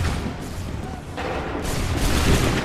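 Musket volley fire in the video game Assassin's Creed 3, heard as a dense, continuous roar of booming shots with a surge partway through, loud and close throughout.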